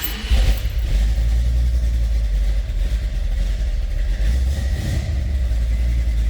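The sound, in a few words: 1968 Ford XL Fastback engine running, rebuilt with mild cam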